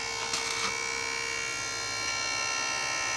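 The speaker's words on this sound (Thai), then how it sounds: "นี่แหละพัดลม มัน ดัง" Fan running beside a charcoal kiln, a loud, constant electric whirring hum with steady tonal overtones. It drones on without a break, with no voices.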